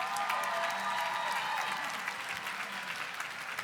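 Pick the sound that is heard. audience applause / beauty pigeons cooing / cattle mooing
audience applause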